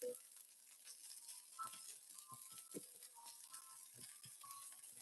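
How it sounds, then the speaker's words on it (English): Steady sizzling of spring rolls frying in a pan, with occasional soft clinks and scraping, fairly quiet and close, no voices. "It's frying up in this pan."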